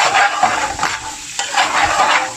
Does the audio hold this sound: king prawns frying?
yes